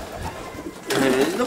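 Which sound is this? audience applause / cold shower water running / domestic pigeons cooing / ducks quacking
domestic pigeons cooing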